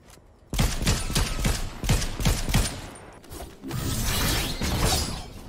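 Rapid gunfire in the Fortnite video game, several quick bursts of sharp, loud shots with mechanical clatter, followed by a denser stretch of continuous rattling fire, with no voices over it.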